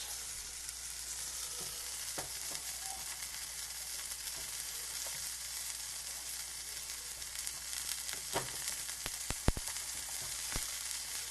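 Soft, steady sizzle of scrambled eggs still cooking in a hot pan with the burners switched off, a faint continuous hiss broken by a few small clicks and ticks, no voices.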